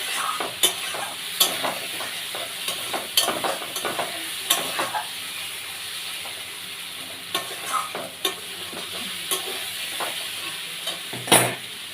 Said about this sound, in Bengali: এইবারে আমি এতে জল দেব গরম জল দেবো